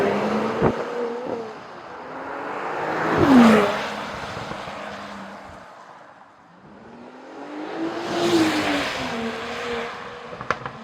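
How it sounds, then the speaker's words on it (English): A Mercedes-AMG GLE53 Coupe engine revs as the driver clicks through the paddle shifters, rising in two distinct swells that climb in pitch and then fall away, heard alone without talk. "just clicking through the paddles, making sure that the engine is making some sweet noises"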